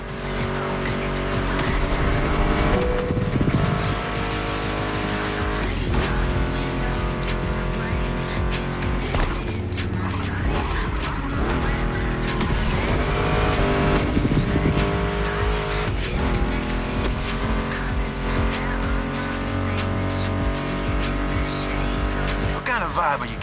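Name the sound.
Mustang GT muscle car engines in The Crew Motorfest video game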